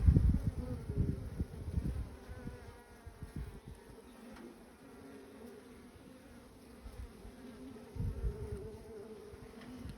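Honeybees buzz steadily around an open hive as frames are inspected, a close, continuous drone with louder swells at the start and near the end.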